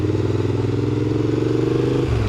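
A motorcycle engine runs steadily at close range as the rider brakes and shifts down a gear, a loud continuous drone that drops in pitch right at the end.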